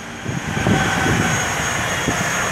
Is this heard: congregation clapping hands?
no